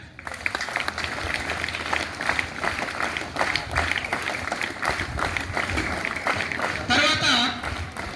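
An audience applauds at a village Independence Day celebration, a crowd's steady patter of clapping that carries on for several seconds, swelling near the end, with a voice speaking over it.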